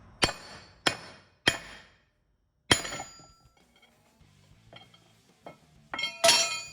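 A forged knife edge, made from high-grade bolts, strikes and cuts into aluminum in several sharp metallic clinks and chops, three quick hits followed by a louder strike and scraping, close and alone.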